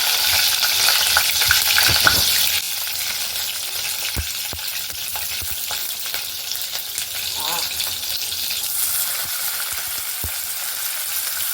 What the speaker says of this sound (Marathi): थोडं जिरं टाकलंय, 2 चिमूट. मिरच्या टाकल्या 2-3.